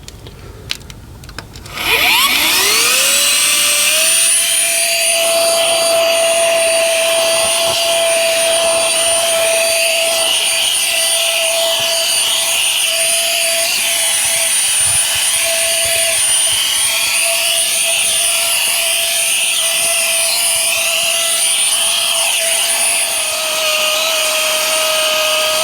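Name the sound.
cordless vacuum cleaner running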